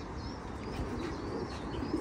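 Ornamental pet birds in an aviary coo and chirp steadily throughout, a continuous layered chorus of soft calls over a constant background hum.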